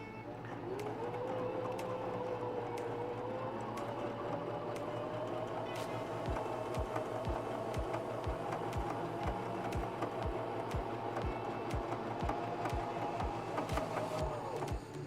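A sewing machine runs steadily through pinned quilt pieces for a pinwheel baby quilt, a continuous mechanical whir with a rising pitch at the start and a fast stitching clatter in the latter half.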